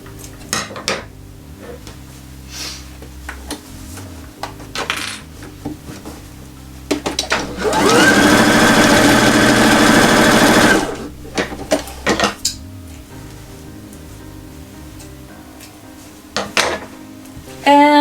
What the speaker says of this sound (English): I'm putting clips in just to hold it in place and just stitching them on.